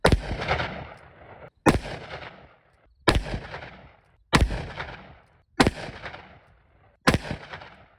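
A revolver with a 4-inch barrel fires .357 Magnum W296 loads with 125-grain bullets: six sharp, loud reports spaced roughly a second and a half apart, each trailing off in a short echoing decay.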